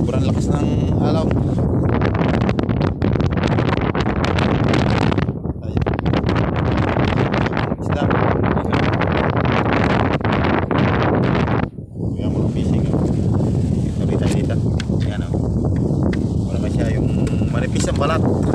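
Very strong wind at sea, a loud continuous buffeting roar that fills the whole stretch, with brief dips near five and twelve seconds and a muffled voice speaking beneath it.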